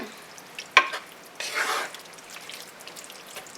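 Ratatouille vegetables are stirred in a pan, producing a sharp scrape followed by a brief swishing sweep and soft, quiet sizzling afterward.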